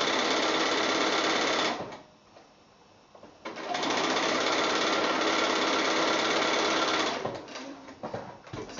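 A sewing machine stitches the final seam of a quilt block, running in a steady, close, whirring drive, pausing briefly, then resuming for a long run before slowing at the end.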